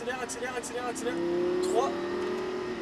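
Lamborghini accelerating on a racetrack during a driving course, its engine rising into a steady sustained drone with a brief surge, close and loud, while an instructor talks over it.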